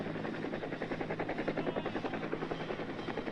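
Helicopter in flight in 1966 Vietnam War combat footage, its rotor beating in a steady rapid chop that stays loud and close throughout with a constant engine whine underneath.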